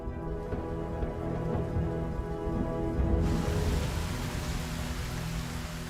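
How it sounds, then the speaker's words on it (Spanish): Heavy torrential rain pours during a storm in an ancient desert region, a dense, loud, continuous hiss of downpour under a tonal musical drone, growing broader and fuller partway through; no voices are heard. "esta región sufría tormentas y lluvias torrenciales"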